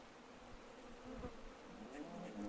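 Mosquitoes buzz faintly in the Card Survival Fantasy Forest game, a thin whining drone that runs steadily throughout with slight swells, alone without voices.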